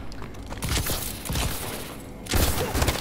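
A very fast-firing gun in Call of Duty Advanced Warfare multiplayer lets off a dense, continuous blur of rapid shots, loud and crackling, with a heavier thumping burst near the end.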